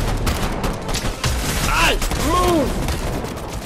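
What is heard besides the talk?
shotgun fire in the video game Fortnite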